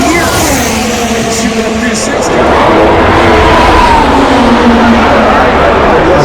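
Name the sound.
F1 race car engines passing on Miami track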